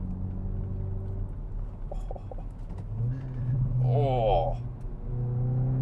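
A Hyundai i20N's 1.6 litre engine hums as a low, constant rumble, swelling briefly into a rising rev midway, while a person gives a short exclamation.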